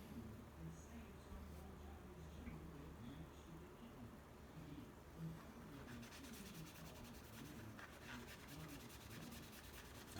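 Soft, steady scrubbing of a Magic Eraser sponge rubbed over an anime figure, a close, quiet rasping that continues throughout with faint handling noise and a brighter scratch near the end.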